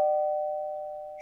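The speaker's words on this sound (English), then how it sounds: "Okay, I'm going to ring the doorbell again." A doorbell gives a single clear electronic chime close by, one sustained tone that slowly fades out, with no talking.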